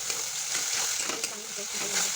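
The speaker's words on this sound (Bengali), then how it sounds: "নুন আর হলুদ দিলাম, ভেজে নেব" Vegetables frying in a pan with salt and turmeric give a steady, close hiss of sizzling oil across the whole stretch, with faint stirring scrapes and no clear talk.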